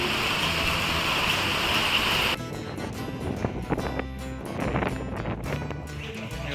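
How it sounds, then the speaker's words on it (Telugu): Heavy rain falls steadily outdoors during a storm, a dense continuous roar with gusty wind buffeting the microphone; the wash thins slightly after the first couple of seconds but keeps pouring throughout, with no voices. "వర్షం అయితే బాగా వస్తుంది"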